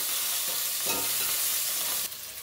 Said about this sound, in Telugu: ఇప్పుడు మనము పుదీనా, కొత్తిమీర యాడ్ చేసుకుందామండి. బాగా మిక్స్ చేసేసుకోవాలి.